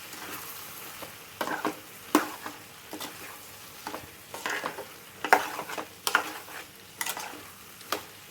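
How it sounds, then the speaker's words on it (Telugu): A spoon stirring potato kurma curry with spices and chopped coriander in a pan, irregular scraping clinks over a faint sizzle, close and moderately loud. "అండ్ ఇందులోనే సన్నగా కట్ చేసిన కొత్తిమీర వేసేసి ఇప్పుడు మంచిగా కలిపేస్తున్నా"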